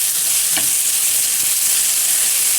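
Cordyceps mushrooms fry in a pan with a steady, loud, close sizzle that holds throughout, with a brief stirring scrape partway through.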